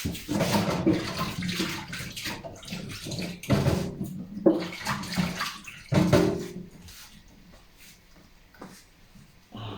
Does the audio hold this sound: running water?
yes